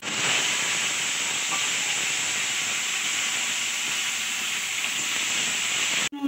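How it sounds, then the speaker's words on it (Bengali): Onion, dried red chilli and bay leaf hit hot oil in a loud, continuous hissing sizzle that holds steady close up for several seconds, then cuts off abruptly. "যে এবার তেলের উপরে পেঁয়াজ দেবো, শুকনো লঙ্কা, তেজপাতা দিয়ে দিই।"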